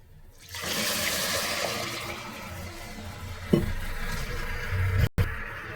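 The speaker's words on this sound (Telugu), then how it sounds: "1 గ్లాస్ రైస్కి 2 గ్లాస్ వాటర్ తీసుకొని వేసుకుందాం" Water pours steadily into a pressure cooker of rice, a continuous close splashing rush for several seconds that ends with a brief clunk.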